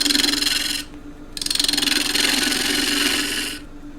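Half-inch spindle gouge cutting wood on a lathe, a loud close hissing shave in two sustained passes with a short pause between, no talk.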